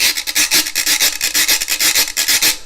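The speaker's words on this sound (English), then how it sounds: "So the guicharo is like a rasp, and you can see it's like a gourd" A ridged gourd rasped in quick rhythmic strokes, a bright scratchy ratcheting sound repeating steadily, close and alone.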